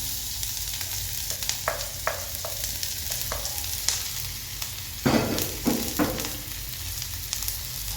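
Green chilies and onion fry in hot oil in a pan, a continuous loud crackling sizzle up close, with several scraping, clattering stirs scattered through.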